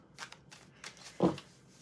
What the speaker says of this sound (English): Couple more shuffles.